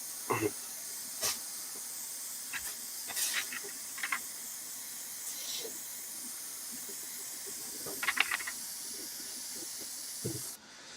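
A steady airbrush hiss of acrylic paint runs close and continuous, broken by a few small taps and clicks, then cuts off at the end.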